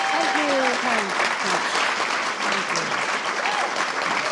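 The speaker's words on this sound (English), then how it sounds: "that deserves an applause." Steady audience applause at an on-stage conversation about identity and art, sustained even clapping throughout with a few voices faintly mixed in.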